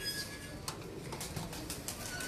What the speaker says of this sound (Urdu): یہ امام دین کبوتر ہیں